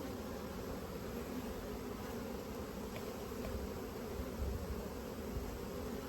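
Honeybees shaken from a hive frame during spring splits buzz in a steady, droning swarm, close and continuous, a low insect hum layered with airy hiss and no voices.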